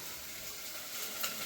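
Dal being tempered in hot oil in a home kitchen, a steady, faint crackling sizzle heard from some distance, continuous with no clear peaks and no voices.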